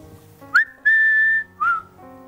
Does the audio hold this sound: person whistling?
yes